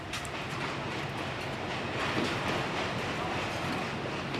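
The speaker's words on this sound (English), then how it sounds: "after running into Funchera from Arero, just north of Grândola, with its load of sand and one wagon of cement, the loco will have to run round" A Portuguese freight locomotive hauling sand wagons and one cement wagon rumbles past at a steady distance, with a continuous rolling roar and faint wheel rattle on the line near Grândola.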